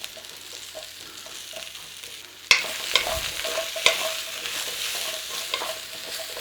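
Brussels sprouts fry in a pan with a steady soft sizzle, broken by a few sharper clanks and scrapes as a utensil gently stirs them against the metal.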